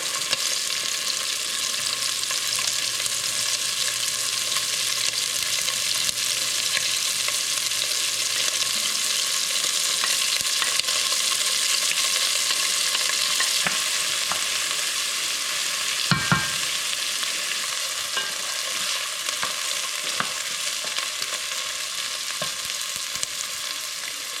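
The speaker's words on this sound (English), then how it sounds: "Okay, going to add onions." Onions fry in a pan for homemade kimchi jjigae, a steady, bright sizzle lasting throughout with occasional stirring scrapes and one brief clunk partway through, no talking.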